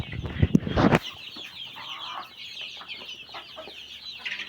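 Chickens on a poultry farm in Saudi Arabia cluck and squawk in a busy, continuous chorus, with a loud burst of close flapping and calling at the start before settling into steady background clucking.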